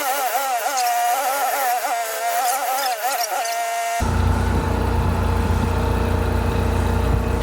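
A Ford Ranger with a failing power steering pump, started and left running during power steering bleeding: a whining tone gives way midway to a steady, loud engine idle with a low rumble.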